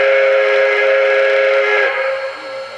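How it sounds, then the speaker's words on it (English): A Lunkenheimer three-chime steam whistle from a TCS WOW heavy steam sound decoder sounds one loud, steady blast that tapers off near the end. "Lunkenheimer 3 chime."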